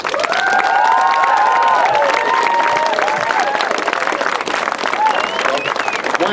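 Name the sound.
audience applause and cheering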